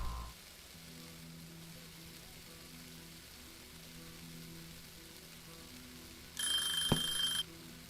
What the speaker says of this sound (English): This timer's gonna go off first.